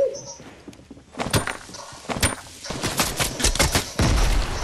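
Gunfire in the Fortnite video game, with a series of sharp shots and short bursts cracking close by in an irregular rhythm, growing denser toward the end, while a voice is faintly heard early on.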